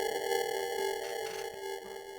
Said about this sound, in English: So as you can hear, the reverb of the piano sound is got a continuous distortion sound on it.